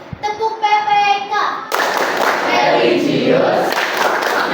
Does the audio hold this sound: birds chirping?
no